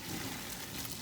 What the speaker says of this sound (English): And then pour it through a colander.